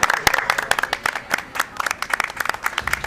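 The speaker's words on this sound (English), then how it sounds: "Everybody start clapping till we leave." A live event crowd claps in uneven, crisp bursts, fairly close and lively, with some voices mixed in underneath.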